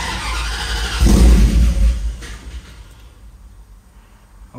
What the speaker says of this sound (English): Give this thing a crank, see what happens.